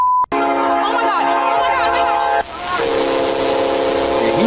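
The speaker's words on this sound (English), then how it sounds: "a train soon approached at high speed" A train rushes in at high speed near a level crossing, its horn blaring in a long sustained blast of stacked tones that shifts pitch partway through, loud and continuous over roaring track noise.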